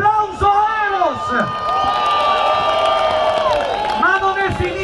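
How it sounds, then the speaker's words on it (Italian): At a children's carnival in Sondrio, an outdoor audience cheers loudly for Eros, with high whoops and shouts rising and falling over a continuous wash of crowd noise. "Un applauso a Eros"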